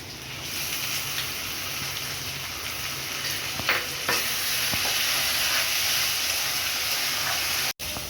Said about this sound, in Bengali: এরকম মশলা দিয়েছি, মশলা দিয়ে কষিয়ে নিয়েছি